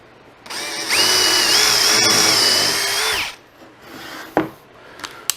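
A power drill whirs steadily for about two and a half seconds while pre-drilling and countersinking a hole in plywood, then winds down, followed by a few light knocks and handling clicks, close and loud.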